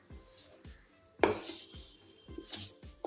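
Chana dal stirred with jaggery and sugar in a metal pot for puran, giving sporadic spoon scrapes and clinks against the pot, close and moderate, with no voices.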